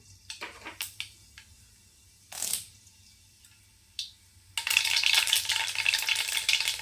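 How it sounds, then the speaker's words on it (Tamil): Oil is poured into a kadai and mustard seeds go in, with a few scattered taps and rattles at first, then a sudden loud, crackling sizzle that continues steadily to the end. "கடாய் வச்சுக்கலாம் எண்ணெய் சேர்த்துக்கலாம் கடுகுளத்து மாதிரி போட்டுக்கலாம்"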